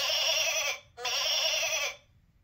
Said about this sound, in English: I see some sheep.